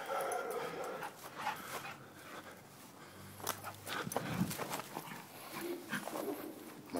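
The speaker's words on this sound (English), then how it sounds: "My dog is playing with me." A dog playing, giving faint whimpers, yips and short barks at close range amid rustling movement.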